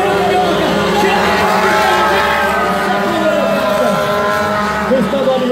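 Race car number 18 on a dirt oval track arriving at the finish, a loud continuous engine roar with shifting pitch under a commentator's talk.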